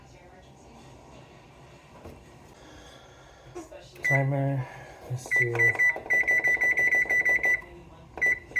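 Beeps from an oven control panel as a baking timer is set, a run of sharp electronic chirps in quick rhythmic bursts, close and loud, after a person talks.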